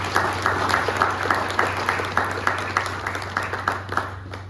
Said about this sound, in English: I want to give them a round of applause as well for helping